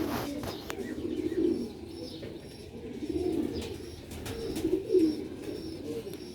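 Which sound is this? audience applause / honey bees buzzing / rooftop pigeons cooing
rooftop pigeons cooing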